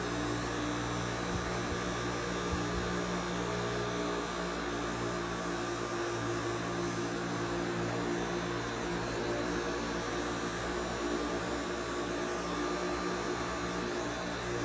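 A hair clipper set to zero buzzes steadily and close while trimming a clean skin fade, a continuous electric hum with no talk over it.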